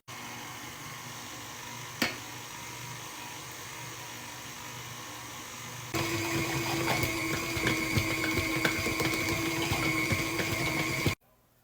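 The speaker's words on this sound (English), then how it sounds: "My mixer has been going on a speed of 5 for about 3 minutes." Stand mixer running at speed 5 while kneading sticky dinner roll dough: a steady whirring motor hum with one sharp click early on, growing louder partway through, then cutting off abruptly.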